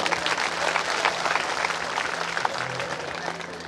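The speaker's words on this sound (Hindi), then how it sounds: "जोरदार ताली बजाओ" A crowd at a village religious gathering claps loudly and steadily, dense continuous applause filling the whole stretch without a break.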